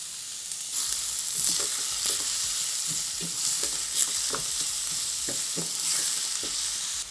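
Chopped onions sizzle steadily in hot oil in a curry pot, a continuous bright hiss with light stirring knocks and scrapes scattered through it, fairly close and with no talking.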